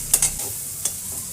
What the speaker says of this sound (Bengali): সময় নিয়ে হালকা লাল করে ভেজে নেব।